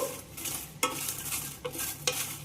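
Byadagi chillies are stirred while roasting in a pan, giving a steady close scraping and soft sizzle with a few sharper clinks of the spoon against the metal.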